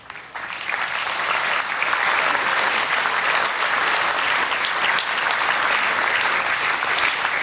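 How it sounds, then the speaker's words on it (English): An audience gives sustained applause for past champions at a gathering, loud and even clapping that swells in quickly and holds steady, with no talking. "I am going to ask one more time a round of applause for these great champions who've joined us."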